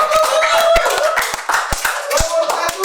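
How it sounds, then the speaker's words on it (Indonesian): Clapping from a gubernatorial debate audience, a few distinct hand claps ringing out fairly close amid murmuring voices, brief and uneven rather than a full ovation. "Tepuk tangan."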